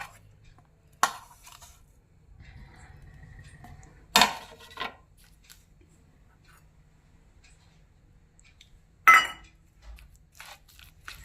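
Mashed eggplant for bharit is mixed with garlic, chili powder, salt and oil, giving a few sharp, isolated clinks and scrapes of a spoon against a dish between quiet stretches, close by.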